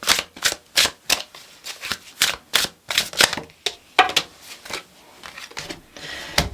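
A deck of tarot cards is shuffled in quick bursts, a dozen or so crisp riffling flutters with short gaps between them, close and fairly loud with no talking.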